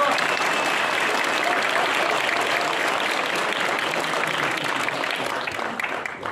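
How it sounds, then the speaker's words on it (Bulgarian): Theatre audience at an amateur play applauding a young debuting actress, a dense continuous wash of clapping that holds steady and then tapers slightly at the end. "Моля вашите аплодисменти за Кати Беджива!"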